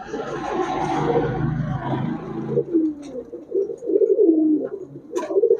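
A muffled rumbling rush fills the first half, then soft, throaty red checker pigeon coos roll on close by with light clicks and rustles.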